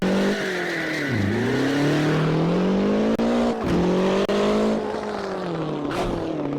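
Race car engine in the Assetto Corsa sim racing game, loud and continuous, pitch rising and dipping through gear changes and corners, with tire squeal and brief dropouts.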